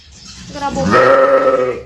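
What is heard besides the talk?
goat bleating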